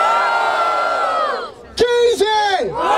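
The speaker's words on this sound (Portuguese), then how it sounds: "Escolhe um e grita com força" Crowd at a rap battle in Barueri, São Paulo, roaring and yelling for a rapper: a sustained loud mass of voices that fades, then two sharp bursts of whoops and shouts.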